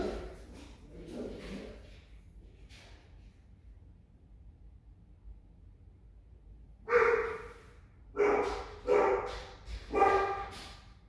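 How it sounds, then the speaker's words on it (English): A Rottweiler barks indoors at night, several loud, close barks in a quick cluster near the end after a quieter stretch with faint earlier vocal sounds. "I got the Rottweiler in the room"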